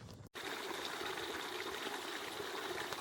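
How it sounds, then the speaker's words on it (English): A babbling brook near Fort La Cloche flows in a steady, close wash of trickling and gurgling water that starts after a brief cut and carries on evenly, with no voices. "A babbling brook."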